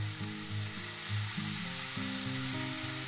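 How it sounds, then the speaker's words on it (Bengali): Onions fry in a pan with a soft, continuous sizzle, while a steady tonal background hum with shifting pitches runs underneath throughout. "এটাকে আমি মিনিমাম 3 থেকে 4 মিনিট ভেজে নেব"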